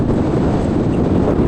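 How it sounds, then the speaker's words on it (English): Strong desert wind buffeting the microphone while bikepacking through Oman, a loud continuous roaring rumble with no break. "It's getting very windy now."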